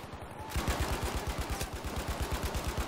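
Sustained rapid bursts of Madsen machine gun fire from Battlefield 5 multiplayer combat, loud and close, with rhythmic repeated shots running continuously after a brief quieter start.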